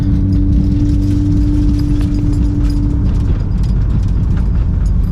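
A widebody-kit car drives on an icy road, its engine droning loud and steady throughout alongside a sustained tonal hum and light rattles from the cabin.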